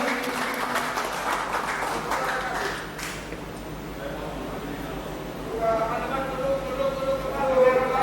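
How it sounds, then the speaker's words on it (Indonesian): Audience applause at an Indonesian ministry ceremony handing over internet access aid, a broad steady clatter of many hands across the room with a voice speaking over it partway through. "Boleh kita berikan tepuk tangan sekali lagi."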